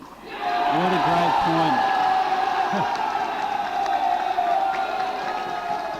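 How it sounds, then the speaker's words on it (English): A crowd at a pickleball match erupts into cheering and applause after a point, a sustained roar that rises quickly and holds steady, with a commentator's voice briefly over it. "And that's fired up the crowd."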